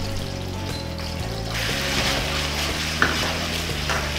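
Cap cay vegetables with garlic stir-fry in a pan, a steady loud sizzle with scraping stirring strokes up close, growing brighter as a little water is added and the heat is raised, with no talking.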